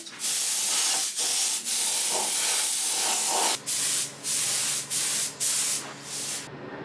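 A spray can hisses loudly in close, repeated bursts while painting a restored aluminium rear suspension part from a Triumph TR6, with long sprays first and then several shorter puffs separated by brief pauses.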